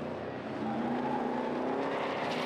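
Classic sports and saloon racing cars at Knockhill circuit, powering up the main straight: a steady, moderately distant engine roar with rising tone, heard alone without talk.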